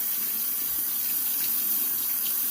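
Tap water runs steadily into a sink while facial moisturizer is rinsed off the face, a continuous close splashing hiss with no talking.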